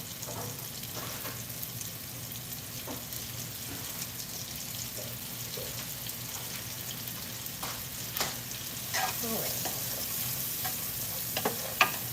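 Onions and peppers frying in butter in a pan, a steady soft sizzle throughout with occasional sharper crackles and spatters, no talking.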